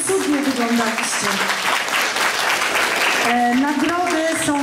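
Applause from the audience at a carol and pastoral song festival, steady clapping throughout with musical tones and voices mixed in over it.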